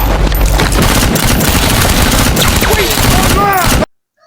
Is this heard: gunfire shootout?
yes